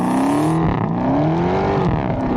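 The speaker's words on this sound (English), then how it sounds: "that exhaust sounds amazing" A supercharged, 1,000-horsepower SVT Cobra engine revs hard and close, its exhaust rising and falling in pitch through several throttle blips with a deep, throaty rumble.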